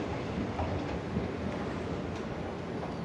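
A new Tel Aviv metro subway train, part of Israel's first subway, makes a steady, close rushing rumble with a faint rhythmic clatter of wheels on rails, with no talking.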